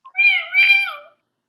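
A person imitates a cat with a clear, close two-part meow during the Chad Gadya song at a community Passover seder, with no other sound around it.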